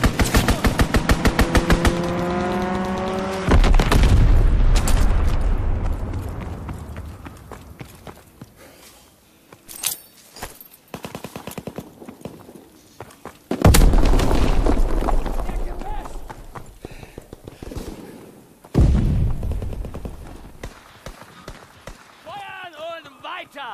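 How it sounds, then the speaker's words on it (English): Strafing-run gunfire and explosions from a fighter pilot in a video game: loud, rapid machine-gun bursts and heavy blasts that come in several waves with quieter gaps between them. "Fighter pilot inbound. Strafing the target."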